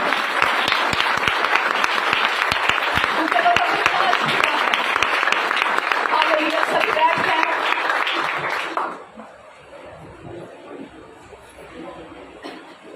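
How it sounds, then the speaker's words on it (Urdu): Loud, dense applause from a church congregation during a service, a sustained roar of clapping for about nine seconds before it suddenly drops to near quiet. "زوردار تالیاں"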